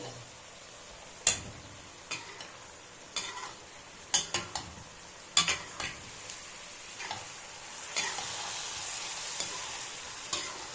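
Carrot halwa roasting in a pan under a soft continuous sizzle, with a slow spoon stirring and scattered scrapes and taps against the pan, close and unhurried, no voices.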